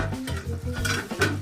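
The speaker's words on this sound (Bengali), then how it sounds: "7 মিনিট পর আমি ঢাকনাটা খুলে নিচ্ছি" A pot lid clinks as it is lifted off a pan of Bengali amudi shutki dry fish chorchori simmering on low heat, with two brief metallic clatters over a soft sizzle and background music.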